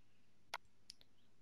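A single sharp computer mouse click, close and quiet, followed by a fainter second click a moment later, with nothing else around it.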